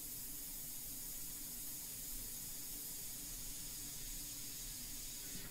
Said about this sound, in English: You just gotta control your airbrush.